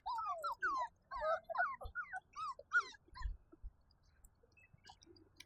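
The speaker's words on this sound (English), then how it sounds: "Look at her playing with these puppies." Five-week-old puppies whimper and yip in quick high-pitched bursts, several short cries close by, then trailing off into quieter scattered whines and soft thumps.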